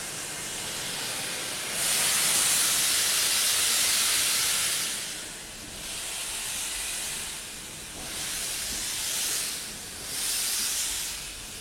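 Steady, loud hiss of steam venting from a Standard class steam locomotive in cold, wet weather, swelling and easing in several pulses as the cylinder cocks blow off, with no talking.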